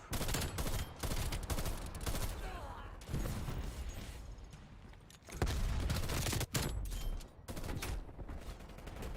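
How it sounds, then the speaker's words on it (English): Hostile sentry turret gunfire in Call of Duty Black Ops Cold War comes as loud, dense bursts of automatic fire with brief gaps, close and sustained over game noise. "Hostile sentry turret"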